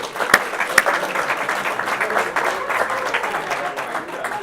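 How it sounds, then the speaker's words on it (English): An awards program audience applauds themselves, a steady, full round of clapping from a large crowd, with a couple of sharper claps standing out at the start. "Give yourselves a round of applause."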